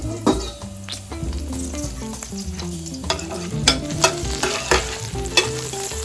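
Onions sizzle in a Saladmaster 4.5 braiser pan while a utensil stirs them, with a steady frying hiss broken by repeated scraping and clinking strokes against the metal, close up and without speech.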